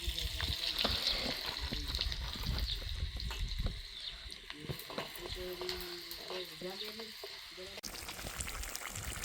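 Steady hiss of cumin seeds sizzling in hot oil, with scattered crackles and a voice talking over it partway through.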